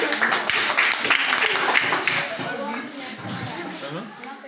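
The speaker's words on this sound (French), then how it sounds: "Applaudissez." A classroom of primary pupils in a school quiz match breaks into applause, dense clapping filling the whole stretch at fairly steady loudness, with voices talking over it.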